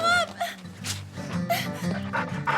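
A dog barks and whimpers in short yips and whines, close by, mixed with panting and some human talk.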